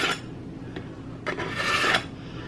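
A knife blade is drawn through a manual sharpener with coarse and fine slots, giving a few short raspy scrapes followed by a longer, louder grinding pull, close up with no voices.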